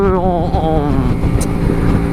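A Honda Shadow 125 motorcycle engine hums steadily while riding along a rural highway in Champagne at about 70 km/h, a loud, even drone with wind and road noise.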